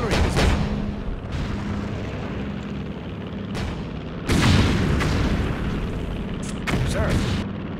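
Artillery fire in the World War II strategy game Blitzkrieg, heavy booms landing one after another with rumbling decay, several louder blasts near the middle and end over a steady battle din, with brief radio-style voices.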